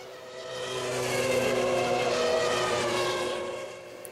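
Race car engines from a racing simulator at the start of a race, a dense droning roar that swells over about a second, holds steady, then eases off near the end, with no talk.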